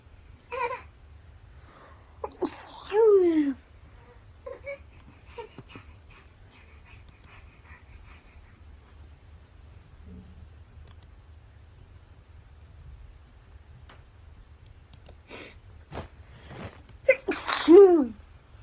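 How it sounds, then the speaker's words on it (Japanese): A woman with a pollen allergy sneezes in a few sharp, isolated bursts separated by long quiet gaps, close and fairly loud, with one final louder sneeze near the end. "くしゃみでそう。"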